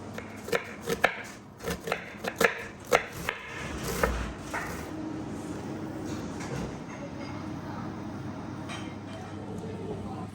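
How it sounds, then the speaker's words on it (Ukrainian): A knife chops onion, cucumber and mango for sushi on a cutting board, a quick run of crisp, close thuds at the start before fading into quieter sounds while someone speaks over it. "Нарізаємо цибулю, сізле, нарізаємо вірок та манго"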